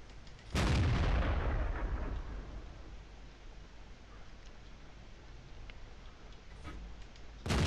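A single heavy tank-gun shot from an SU-100 or AT-2 in a tank battle game. The blast is loud and close, followed by a long fading rumble and quieter background ambience.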